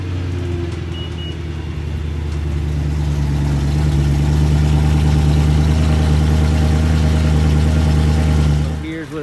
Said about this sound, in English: So here's a cold start of a stock exhaust